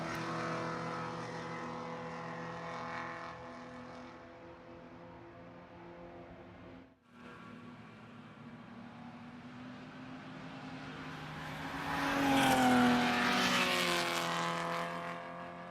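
Race cars roar around the Road Atlanta circuit during an endurance club race, a steady loud engine drone broken by a brief dip near seven seconds, then a car surges closer and louder toward the end.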